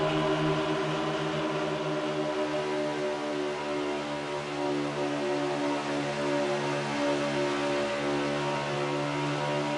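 A steady, sustained engine drone with strong harmonic tones holds at a constant pitch throughout, loud and close, heard from inside a racing car during a race at Atlanta.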